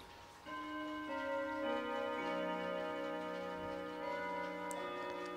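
An antique clock ticks steadily and up close, with sustained ringing tones layered over it and no speech.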